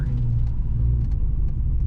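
A modified 2016 Jeep Wrangler Unlimited Backcountry with a Hellcat engine swap rumbles at a steady, deep idle, loud and close, with no talk over it.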